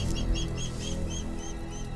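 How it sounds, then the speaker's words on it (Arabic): A karawan (stone-curlew) calls at night, a series of about eight short, high repeated notes in a steady rhythm over a low background hum, with no talking. "في كروان، خايفين من ايه كروان؟"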